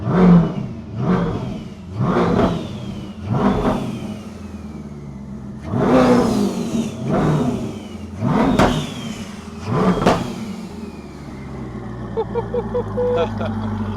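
A turbocharged Ford Foxbody car engine revs repeatedly in surges, with a rising turbo whistle from the exhaust over the growl and people talking underneath.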